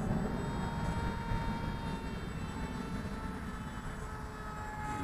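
A small Mini Popwing RC model airplane makes a full-speed pass, its engine a loud, steady high-pitched buzz that stays close and drones on without a break.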